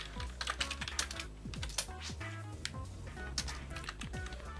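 Rapid clattering keystrokes on a PC computer keyboard, close and fairly quiet, irregular bursts of taps with short pauses, no talking.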